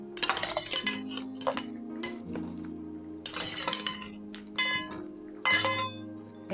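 Crabs go into a pot of boiling potato curry, bringing irregular bursts of metallic clinks and clatter from utensil and pot over a steady tonal background.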